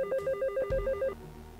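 A telephone rings close by in a workshop: quick repeated electronic trill bursts sound loudly for about a second, then cut off, leaving faint room noise with no talking.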